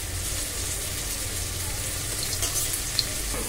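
Oil heating in a pan for a bitter gourd fry gives a steady, even sizzling hiss throughout, with no talk and one small click near the end.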